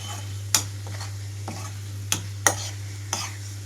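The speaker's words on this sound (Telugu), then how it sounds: "వేయించిన వంకాయ ముక్కలన్నీ ఇందులో కలిపేస్తున్నాను" Fried brinjal pieces are stirred into a fenugreek leaf curry in a pan. Several sharp scrapes and clinks of the spoon sound close up over a soft, steady sizzle, and nobody speaks.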